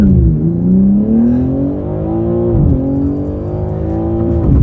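A 740 PS BMW M3 Touring wagon launches hard from a standstill, its engine note climbing steadily through the gears with brief dips at each shift, loud and close throughout.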